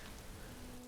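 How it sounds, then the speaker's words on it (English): Steady soft rainfall in the Animal Crossing New Horizons game world, an even wash of drops on surfaces, quiet and unbroken. "it's raining, and I can't do anything about it"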